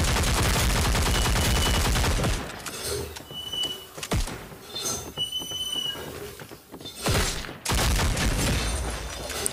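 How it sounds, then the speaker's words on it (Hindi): Gunfire from the mobile shooter Cyber Hunter Lite: loud dense bursts at the start, thinner sporadic shots and game effects in the middle, then another heavy burst near the end. "सामने की साइड से कुछ गन के साउंड आ रहा था"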